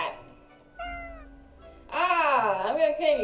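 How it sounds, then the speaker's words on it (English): Cat meowing in the video game Death and Taxes, a short faint mew followed by a louder, longer wavering meow close up, with no voices. "I was right, it is the cat."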